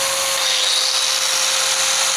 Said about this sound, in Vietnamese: Giờ em bật kèm theo một cái máy khoan này mọi người, máy cắt này.